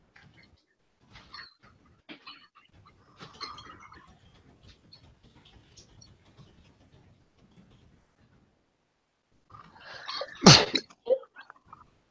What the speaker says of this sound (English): I tried to sneeze the opposite side of the microphone.